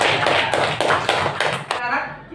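A class of students claps during a lesson, a handful of loud rhythmic bursts of hand clapping in quick succession close by, stopping abruptly near the end.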